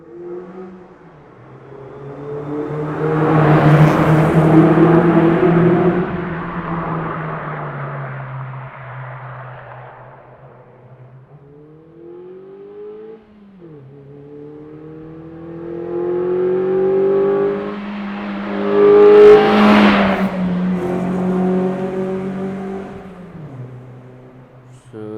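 Modified Toyota Corolla AE95 with custom exhaust manifold, revved hard twice, each run climbing to a loud peak and easing off in a smooth rising-and-falling engine note, with no talking.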